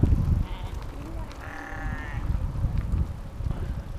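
Sheep bleat in a driving game, with one clear drawn-out bleat near the middle standing out over a rumbling, low-pitched engine-like background.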